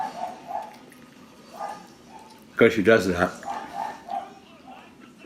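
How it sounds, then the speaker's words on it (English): Neighborhood dogs bark in a short burst of several sharp yaps close by, with fainter barks before and after, while a person speaks over them in a quiet home. "never mind the neighbor dogs that are barking"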